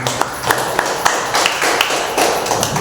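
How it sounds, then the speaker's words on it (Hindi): Congregation applause during a Sunday church service: dense, steady crowd clapping filling the whole moment at moderate loudness, with a few sharper individual claps standing out. "एक बार जोरदार तालियां हो जाए"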